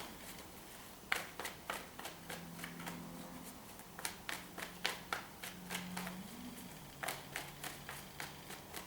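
Tarot cards are shuffled and drawn by hand in a quiet room, a steady run of crisp riffling snaps and slaps, close and soft, with no one speaking.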